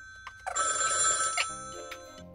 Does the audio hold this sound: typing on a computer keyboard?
no